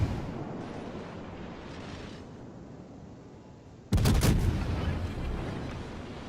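Warship guns fire a heavy salvo in the naval battle game World of Warships, a sudden loud booming blast after a quieter stretch of low rumbling ambience, with the roar trailing off afterward.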